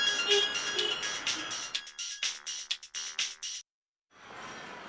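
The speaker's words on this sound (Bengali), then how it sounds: "আবার কেটা ফোন করে?" A mobile phone ringtone plays in a radio drama, a bright electronic melody of repeated tonal chimes that stutters into short bursts, stops abruptly, then resumes briefly, heard on its own without speech.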